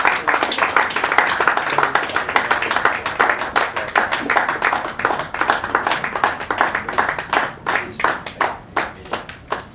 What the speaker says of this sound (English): Continuous applause, please.